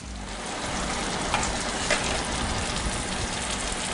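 A pulsed mushroom and onion mixture fries in a skillet, giving a dense, even sizzle throughout with a couple of faint scrapes and no talking.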